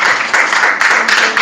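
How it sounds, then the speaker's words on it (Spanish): A church congregation bursting into loud, dense applause, many hands clapping together in a continuous burst with slight swells. "dar un aplauso bien grandote"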